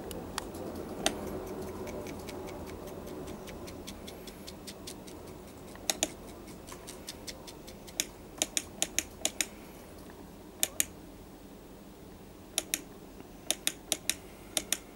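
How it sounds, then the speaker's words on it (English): An FER204 paper tape reader runs paper tape forwards and backwards. It gives a faint, steady mechanical whir broken by irregular clusters of crisp clicks and ticks, heard close and alone. "see the paper running through."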